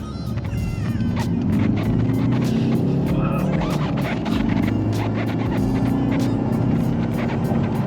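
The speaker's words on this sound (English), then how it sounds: "I'm now going at 20 mile an hour. Let's see how she does." A remapped Ford Focus ST mk3 diesel accelerates from about 20 mph, its engine drone pulling loud and continuous from inside the cabin with light rattles over the top.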